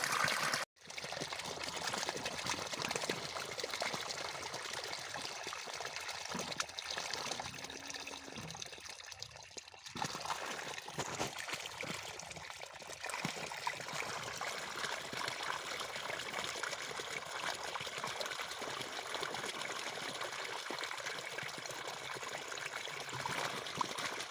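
Steady gushing borewell water pouring from a pipe, pumped by motor from six hundred feet, continuous and fairly close, with no voices.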